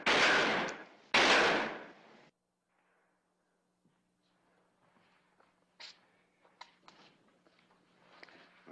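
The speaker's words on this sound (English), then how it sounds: "Well, you've wasted your bullets and dented up my steel." Two loud gunshots strike a steel sheet, each followed by a short decaying ring, and then come faint scattered footsteps and small knocks.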